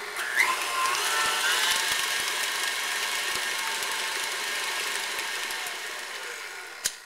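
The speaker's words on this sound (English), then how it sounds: "using the paddle attachment, you want to go ahead and beat your butter just to lighten it up" Stand mixer with paddle attachment beating butter, a steady mechanical whir and hum with faint rhythmic ticks, running continuously at close range without speech.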